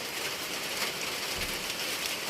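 Steady rain falls, a dense, even hiss of drops on surfaces that stays close and constant throughout, with no voices over it.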